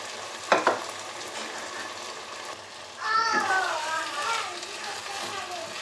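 Washed rice and lentils fry with chicken in a pan for khichuri, a soft, steady sizzle with a couple of sharp stirring knocks early on, while a voice talks over the later part.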